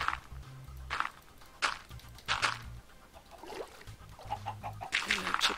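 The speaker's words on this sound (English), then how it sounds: "Hello, chicken." A chicken clucks in repeated short bursts spread across several seconds, close and moderately loud, with scattered bright clicks between calls.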